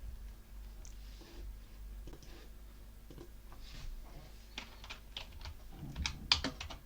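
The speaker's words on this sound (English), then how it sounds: "we're going to type in the following command" Someone types a Linux command on a computer keyboard: quiet, close, irregular keystrokes with short pauses, quickening into a denser burst of taps toward the end.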